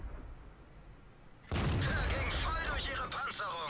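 Panther tank cannon firing in World of Tanks, a sudden loud blast bursting in after quiet ambience and rolling on with rumbling, crackling decay.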